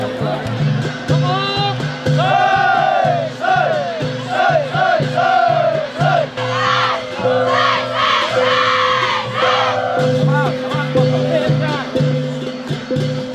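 A crowd cheers, whoops and yells at a village dragon boat race, loud and close, with bursts of shouting rising and falling over a steady hum of drums and voices.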